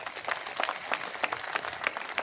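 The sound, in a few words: crowd applause at a political convention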